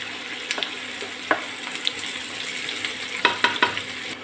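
Food fries in a pan until reddish, with a soft, low sizzle broken by sharp scrapes and clinks of a spoon stirring against the pan, close by with no talk.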